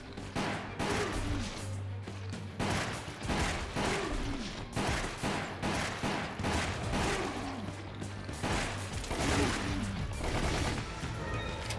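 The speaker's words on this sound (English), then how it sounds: "I'm trying to shoot a particular object" Repeated gunshots fire in quick succession throughout a Resident Evil: The Umbrella Chronicles shooting sequence on PS3, a dense, sharp rattle of bursts with brief pauses, fairly close and loud.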